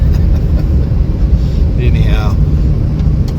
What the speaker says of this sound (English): we're headed out, driving around